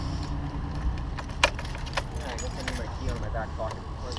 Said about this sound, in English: See if I put my key in the ignition here